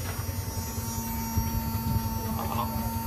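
A coin-operated piso water vending machine, repaired after a broken pump, runs with a steady electric hum and faint buzz, a constant drone close by with light background clatter.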